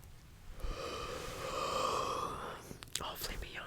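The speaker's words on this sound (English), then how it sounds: "hopefully me yawning will help you go to sleep" A drawn-out yawn rises and swells into a long breathy exhale, close and soft as in whispered ASMR, then trails into faint breaths and small mouth sounds.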